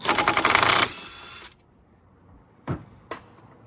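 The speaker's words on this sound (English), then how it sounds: "Get your 13mm socket to remove this." A 13mm socket ratchet loosening a front brake caliper bolt on a Cadillac CTS-V, heard as a dense burst of rapid clicking for under a second, then a short fade and two brief separate knocks.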